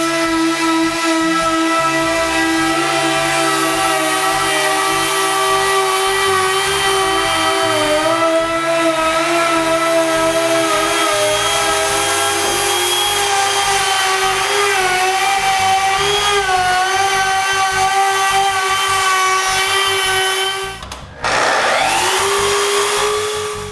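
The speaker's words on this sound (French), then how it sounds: "Ensuite, je coupe l'excédent du formica avec une toupie." Router trimming excess Formica laminate on a mitre saw cabinet, a loud continuous high whine with shifting pitch for over twenty seconds, dipping briefly near the end before resuming.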